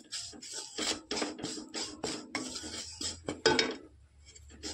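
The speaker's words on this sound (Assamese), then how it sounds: "ময়দাটো ভাজি লৈছোঁ।" A utensil scrapes and rasps in rhythmic strokes as flour and rice flour are stirred and fried in a pan, close and clear, with occasional metallic clinks.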